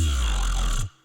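Dense, bright synth tone through a phaser set to zero rate so the notches stay fixed, loud and steady with heavy low end, cutting off abruptly near the end.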